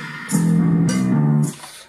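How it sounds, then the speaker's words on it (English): Drums, percussion and bass tracks play back from a Tascam 424 Mk II four-track cassette recorder, a steady sustained bass line with percussive hits running for about a second and a half, fairly loud and alone. "Drums, percussion and bass are here."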